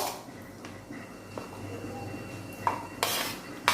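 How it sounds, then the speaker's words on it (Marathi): A mixer grinder jar is handled in a home kitchen while spinach chutney is being prepared, with faint scattered clinks and knocks of metal and a few sharper clanks toward the end. "आता इथे मी मिक्सरचं भांडं घेतलंय"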